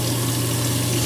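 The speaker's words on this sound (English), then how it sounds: "just trying to get some hot water on those blades" Hot water runs steadily from a tap over the blades of a Gillette Fusion 5 power razor, a continuous close rushing gush with a low hum beneath and no talking.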